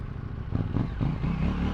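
A KTM 790 Duke motorcycle engine runs on the road in traffic. A brief, close, throaty low rumble pulses steadily and swells slightly as the throttle is opened.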